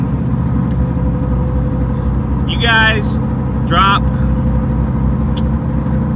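Duramax diesel pickup engine running at high idle, a steady low rumble throughout with someone talking over it.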